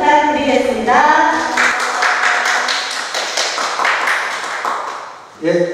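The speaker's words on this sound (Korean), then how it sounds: "큰 박수 부탁드리겠습니다" Brisk clapping from an audience at an academic conference on Baekje's Mireuksa stone pagoda, steady for several seconds after a voice stops, then fading as a speaker begins talking.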